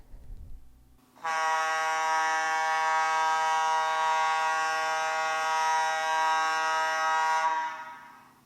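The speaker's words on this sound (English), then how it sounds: "And the all clear is 1 long blast." A gas plant's all-clear alarm sounds one long, loud, steady horn-like blast lasting about six seconds, then cuts off and fades.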